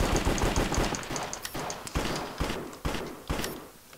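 Repeated pistol shots crack out in the Minecraft Cops & Crims game, a series of sharp reports spaced roughly half a second apart over busy clattering game noise.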